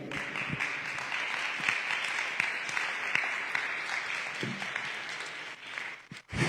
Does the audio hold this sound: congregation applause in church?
yes